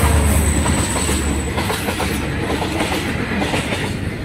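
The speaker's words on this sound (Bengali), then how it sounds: "আর এখন রেল এসেছে গাইস" A train rumbles past on a railway track close by, loud and steady throughout, with rhythmic clickety-clack of wheels over rail joints and a faint high squeal.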